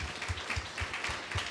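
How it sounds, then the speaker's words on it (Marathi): A church congregation claps along during an Easter Sunday service: steady, rhythmic applause with a beat roughly every quarter second, filling the room at moderate volume. "टाळ्या वाजवूया."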